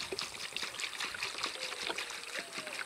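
Tap water pours and trickles steadily into a pot of peanuts being prepared for boiling, a continuous splashing, dribbling stream heard close up with no talking.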